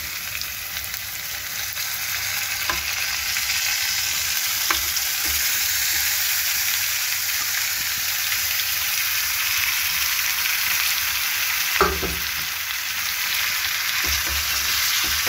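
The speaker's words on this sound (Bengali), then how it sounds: "আলুগুলো ভালো করে নাড়ি চাড়িয়ে নেওয়ার পর এবার ম্যারিনেট করা মাংসগুলো এর মধ্যে দিয়ে দেবো" Marinated chicken pieces frying with potatoes in a pan for a home-style chicken curry, a loud, dense continuous sizzle with occasional scraping clinks of stirring, close up and without talk.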